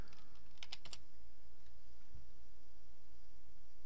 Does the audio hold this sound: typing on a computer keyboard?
yes